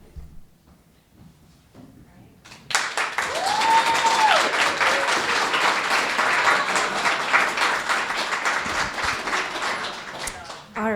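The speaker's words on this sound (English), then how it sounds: "just one more huge round of applause for all the presentations" Audience applause at a winter business accelerator's final presentations, starting after a quiet moment and swelling into sustained, loud clapping from a sizeable crowd that continues for about eight seconds, with a few cheers.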